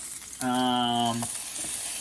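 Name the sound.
meat frying in a frying pan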